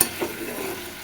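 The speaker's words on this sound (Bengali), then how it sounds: "এবার ভালো মতো মশলাটা কষায় নিব।" Spice paste with a splash of water being sautéed and stirred in a pan for an egg and potato curry, a soft steady sizzle with a brief scrape near the start, close and fairly quiet.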